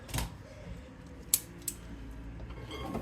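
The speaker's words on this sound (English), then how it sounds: "I'm now going to show you how easy it is to cut the rope." Scissors snip through sash window rope cord in a few close, sharp cuts, one crisp click standing out between quieter handling sounds.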